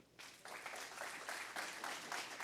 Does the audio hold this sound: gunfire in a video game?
no